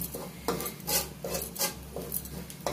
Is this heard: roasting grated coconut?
yes